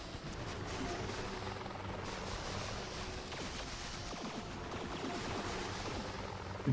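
A rocket chopper helicopter in a video game roars with a dense, steady rotor wash that stays loud and unbroken, with no voices over it.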